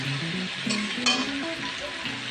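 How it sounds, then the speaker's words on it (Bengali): Spices or vegetables frying in a hot pan for a Bengali drumstick and potato curry, a steady close sizzle with brief stirring scrapes, no talking. "তো একটু ভাজাভাজি করে নেব।"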